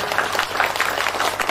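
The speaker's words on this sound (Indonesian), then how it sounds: "Tepuk tangannya mana yang meriah." A congregation at a dhikr manaqib gathering gives lively applause, many hands clapping in a dense, steady patter, fairly loud and close with no speech over it.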